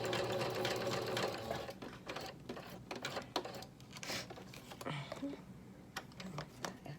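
A sewing machine runs a zigzag stitch in quick bursts of rapid mechanical clatter, pausing and restarting, with a person talking between runs.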